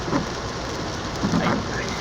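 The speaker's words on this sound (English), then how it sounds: "It's fucking raining out. Oh, the windshield wiper is working better." Heavy rain drums on a moving car during a drive in West Dearborn, a steady wash of patter with a couple of soft swells that could be the windshield wiper sweeping across the glass.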